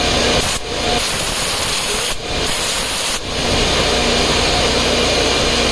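Compressed air blasts loudly through ASIC cryptocurrency miners to blow out dust, a steady close roaring hiss broken by two or three brief pauses as the nozzle lets up, with no talking.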